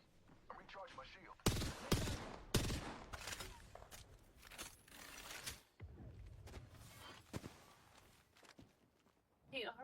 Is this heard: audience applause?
no